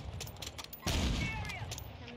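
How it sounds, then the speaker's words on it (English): Gunfire in the video game Call of Duty: Warzone: a sudden burst of shots breaks out partway through and rattles on as sustained, fairly loud firing, with faint game noise before it and no talking. "They're shooting at Patty."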